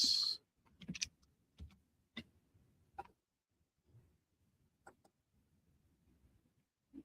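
Someone taps a computer keyboard during a live online auction, making sparse, irregular clicks that are faint and spaced out over several seconds in a quiet room.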